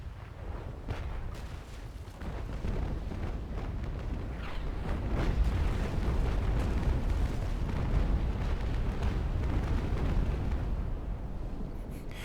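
Cannon fire from sailing warships in the naval combat game Naval Action, a continuous series of deep booming shots and rumbling impacts that builds slightly louder midway, with no talking.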